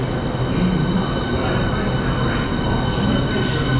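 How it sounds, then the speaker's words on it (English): A Class 395 train rolls into London St Pancras with a loud, steady rumble and rail noise close by, and talk can be heard over it. "here's our train, which is going to be 395015"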